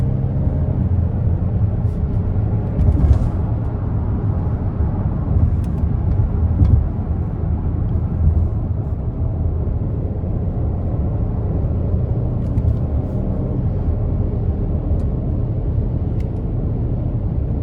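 A 2024 Hyundai Palisade Calligraphy with the 3.8 V6, in sport mode and shifted on paddles, accelerates onto an interstate: a steady, loud low engine and road rumble from inside the cabin, holding even throughout with no talk.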